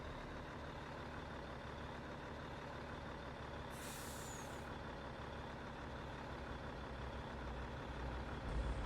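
A truck reverses in Farming Simulator 22 on a Wyoming farm map, with a steady droning engine throughout and a short hiss of air brakes midway. There is no talk.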